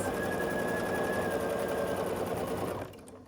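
A sewing machine stitches a quilt triangle to a square in a steady, close, rapid whirring run that slows and stops near the end.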